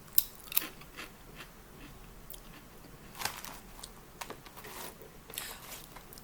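Crisp potato chips from a pack of Chinese snacks are crunched in close, irregular bites, with loud snaps and chewing in a quiet room.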